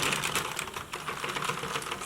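A Loops & Threads knitting machine carriage sliding across the needle bed while knitting stitches, giving a dense, continuous rattling clatter close by, with no voices.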